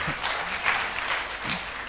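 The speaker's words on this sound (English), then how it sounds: "A bigger round of applause for him." An audience at a talk on anxiety and depression applauds steadily, a soft even wash of clapping from a crowd at moderate distance.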